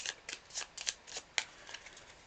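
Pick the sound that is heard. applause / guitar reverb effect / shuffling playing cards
shuffling playing cards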